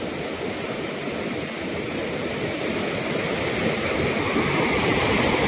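Floodwater rushes through opened dam gates in a village recovering from a flood, a loud, steady, broadband roar that holds without a break and swells slightly toward the end.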